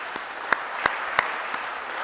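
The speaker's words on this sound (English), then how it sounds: "Give them a round of applause" Audience applause at a speech or awards gathering, a broad steady wash of clapping with a few sharper claps standing out, moderately loud and with no voices over it.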